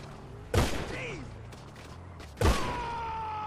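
Two loud gunshot blasts ring out about two seconds apart in the video game GTA V, each with a short echoing tail, over low background game noise, with no talking in between.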